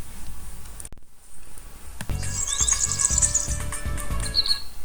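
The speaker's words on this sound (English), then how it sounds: "Sound of chirping of the birds." Birds chirp in quick, high-pitched bursts over a steady background hiss and low rumble, fairly faint and continuous after a brief dip in sound.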